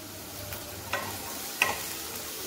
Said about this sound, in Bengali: আর আমি এর মধ্যে মটরশুঁটিটা দিয়ে দিলাম, দিয়ে আমি এটাকে ভালো করে ভেজে নেব